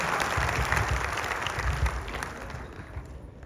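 Audience applause for two honoured guests at a direct selling event, a dense steady patter of many hands clapping at moderate level that fades slightly toward the end, with low murmuring underneath.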